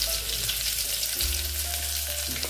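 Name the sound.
chopped garlic cloves sizzling in tempering oil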